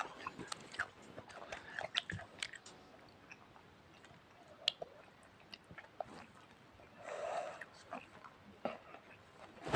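Close, wet chewing with crisp bites and crunches in an irregular rhythm, broken by brief mouth noises and a louder crunchy burst near the end.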